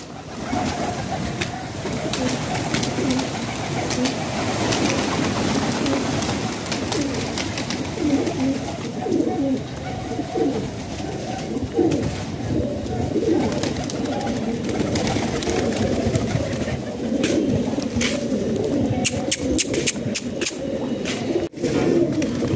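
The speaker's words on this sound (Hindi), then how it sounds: "ये देखिए कबूतर मस्तियाँ कर रहे हैं उड़ रहे हैं इधर उधर" Pigeons coo continuously in a dense, close flock, with occasional wing flutters and clicks over a steady outdoor murmur.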